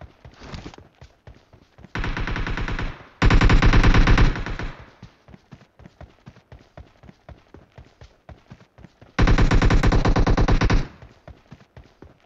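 Automatic gunfire rattles in PUBG Mobile, with three long, loud bursts of rapid shots separated by stretches of quicker, lighter single pops and footstep-like taps.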